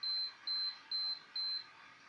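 Multicooker gives four short, evenly spaced high beeps while its timer is reset for one hour of stewing meat with vegetables, clear and close with a faint hum between them.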